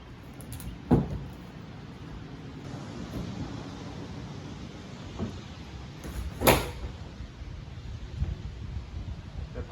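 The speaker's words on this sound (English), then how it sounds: "That pop in is a good sound." Rolled tonneau bed cover being unrolled and tensioned on a pickup bed, with handling rustle outdoors and a couple of sharp snapping pops as it seats into place, no talking.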